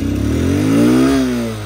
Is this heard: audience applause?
no